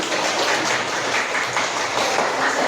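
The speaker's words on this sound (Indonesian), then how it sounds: "kita beri tepuk tangan" Sustained applause from a classroom audience after a student group finishes its presentation, a dense steady patter of many hands clapping throughout, fairly loud, with no speech.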